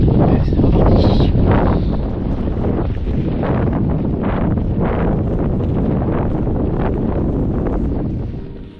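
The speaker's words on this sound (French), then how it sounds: "Encore pas mal de vent." Strong gusting wind on open mountain ridges along the Pyrenean high route, roaring and buffeting the microphone in loud, continuous low rumbles with surging bursts, alone with no voices.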